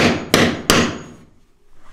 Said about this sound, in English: he's gonna try to pound them now to loosen them up